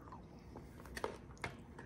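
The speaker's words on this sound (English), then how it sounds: "We got pretzels for the crunch." Quiet close-up chewing of caramel yogurt mixed with crunchy pretzels, a few soft crunches and bites over a low background murmur.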